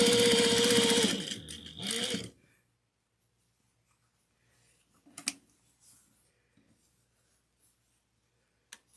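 A sewing machine runs a brief, loud burst while sewing a quarter-inch seam on a pillowcase, then stops, leaving near silence with a few small handling clicks and taps.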